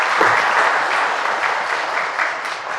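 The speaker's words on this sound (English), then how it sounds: "So please give a round of applause." A room of event attendees applauds a sponsor at a voting-rights language-access event, producing loud, dense, continuous clapping that stays even for the whole stretch with no voices over it.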